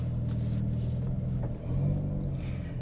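A Hyundai i30 Sedan N pulling away in N mode, its engine a steady low rumble heard from inside the cabin with a slight rise in pitch as it accelerates.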